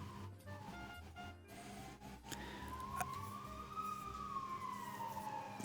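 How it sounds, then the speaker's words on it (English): An emergency siren drifts in through an open window, distant and faint, its wail rising then slowly falling and swelling again over a steady low room hum. "Oh, can you hear the siren?"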